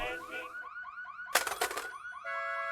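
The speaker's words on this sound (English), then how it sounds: "It's just a car alarm." A wailing car alarm from the video game Massacre At The Mirage, with rapid repeating electronic sweeps up close, then a sudden harsh noisy burst, followed by steady electronic tones.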